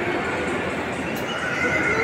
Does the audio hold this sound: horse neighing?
yes